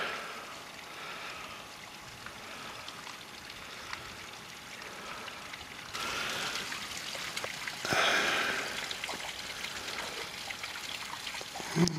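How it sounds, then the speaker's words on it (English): A small stream of water trickling down a coastal beach cliff face, a faint steady running and dribbling hiss outdoors with slight swells in level, no talking. "I do hear the sound of running water here now, so there must be a little stream coming down"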